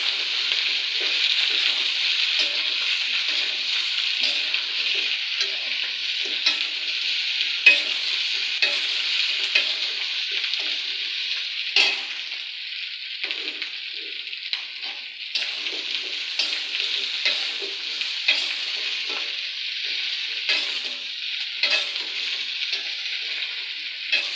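Local potatoes fry with chicken pieces in a pan, a continuous bright sizzle broken by frequent scraping and clacking as the pieces are stirred, close by with no talking.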